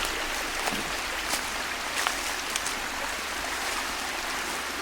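A mountain stream and waterfalls near the pyramid at Summerhill in British Columbia, a steady broadband rush of flowing water with faint splashes, constant and enveloping, no voices.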